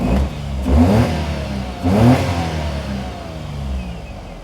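A warmed-up Perodua car engine runs near the listener, its steady idle lifted by two short blips of revving before it settles back to a low, even hum.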